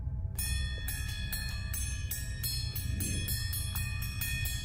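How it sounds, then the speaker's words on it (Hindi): A school bell rings out at night in repeated bright, metallic strikes at a steady pace, ringing on over a low continuous rumble. "इतनी रात को स्कूल की घंटी की आवाज कैसे आ सकती है?"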